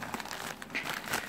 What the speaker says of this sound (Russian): пакетик пупырочка